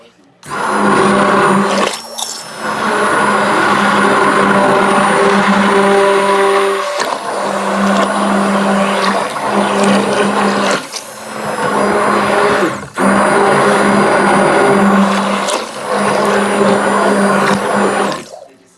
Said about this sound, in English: So now it's time to blend this up.